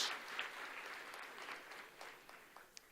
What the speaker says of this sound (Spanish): Damos un aplauso al Señor por el regalo de la Biblia, la palabra